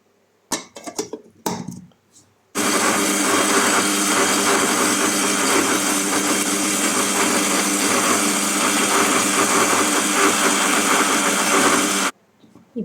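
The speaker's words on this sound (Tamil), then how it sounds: "இந்த கத்தாழை ஜெல்லை நான் ஒரு மிக்ஸி ஜாரில் போட்டு நல்லா அரைச்சி எடுத்துக்கிட போகிறேன்" A mixer grinder whirs loudly and steadily for about ten seconds while blending aloe vera gel, after a few brief knocks, then cuts off abruptly.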